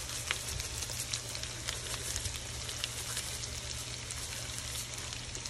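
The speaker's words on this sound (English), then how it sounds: "I always like to do my fried potatoes in my electric skillet." Potatoes fry in an electric skillet with a dense, steady sizzle and crackle, loud and close, with no talking.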